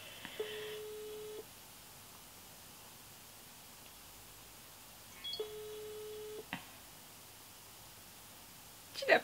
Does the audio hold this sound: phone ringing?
yes